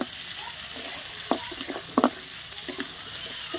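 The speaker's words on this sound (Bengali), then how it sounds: "এটাকে আমরা ভালো করে কষিয়ে নেবো ভালো করে" Goat leg mutton pieces being fried down in a pan, a low steady sizzle punctuated by several distinct scraping and knocking strokes of a spoon, close and moderate in level, with no speech.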